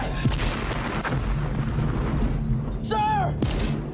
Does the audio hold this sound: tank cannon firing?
yes